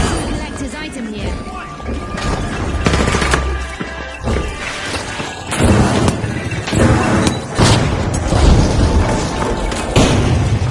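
Explosions and gunfire ring out in the arena shooter The Finals: repeated heavy booms and sharp bursts crowd one another over ten seconds of loud, busy combat with no pause.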